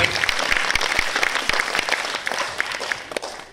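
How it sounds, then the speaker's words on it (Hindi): Loud, enthusiastic applause from an audience, dense rapid clapping that starts strong and tapers slightly, heard alone without speech. "जोरदार करताली"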